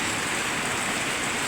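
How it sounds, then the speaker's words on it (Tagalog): Heavy rain pours down in a steady, dense hiss, loud and unbroken throughout, with no voices. "kusog na sad ang ulan sana."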